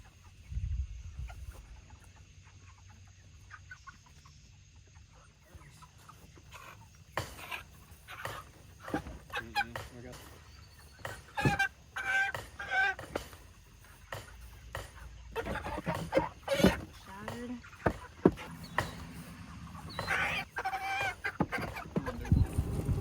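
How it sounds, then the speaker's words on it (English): Chickens on a small farm cluck and squawk in scattered bursts while being loaded into bins for the processing area, with rustling, bumping and occasional knocks. Activity builds after a quieter start, and a dog barks faintly at times. "So we will start loading these chickens and get them up to the processing area."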